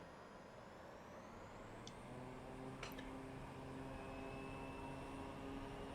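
A small turboprop plane sits on a runway cleared for takeoff, its engine holding a steady loud drone with rising tonal whine, while a brief click and sharp transients cut through midway.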